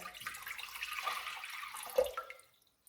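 Water from half a bottle is poured into one side of a slow cooker holding beef stew, a soft continuous splashing trickle close by that swells briefly near the end before cutting off.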